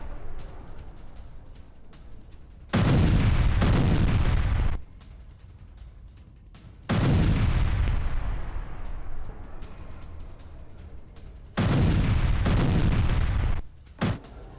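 Artillery fire and explosions in a Russian attack on a Ukrainian base near Kryvyi Rih: three heavy, loud booming blasts, each sustained for about two seconds with rumbling decay, separated by quieter gaps.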